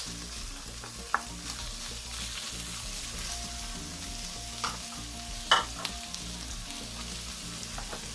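Shredded fish confit for sisig stirred in a hot pan, a steady sizzle beneath scraping utensil strokes and a few sharp clinks against the pan, close up and without voices.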